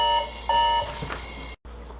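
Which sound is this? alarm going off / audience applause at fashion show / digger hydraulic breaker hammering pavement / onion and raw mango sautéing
alarm going off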